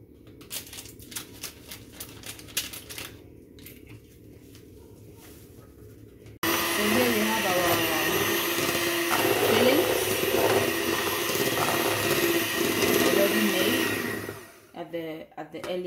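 An electric mixer whirring through cake frosting, starting abruptly loud and running steadily for several seconds before cutting off, preceded by quieter clatter.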